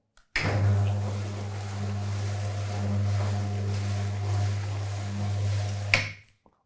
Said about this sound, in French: Donc, on va descendre le volet roulant.